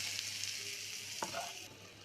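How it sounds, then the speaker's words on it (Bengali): Sliced pointed gourd (potol) frying in a pan, a soft steady sizzle with a couple of brief scraping stirs near the end, quiet and close. "পটল ভাজা"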